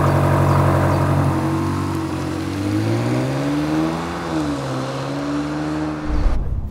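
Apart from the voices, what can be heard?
ABT Lamborghini Urus V8 engine sound through interior speakers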